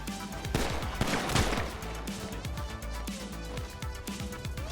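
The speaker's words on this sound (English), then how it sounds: "Now, I shot him in the chest and in the back." Gunfire in GTA V during a roleplay law-enforcement scenario: a few sharp shots burst out near the start, then scattered quieter pops sound over a steady low game ambience, with no talking.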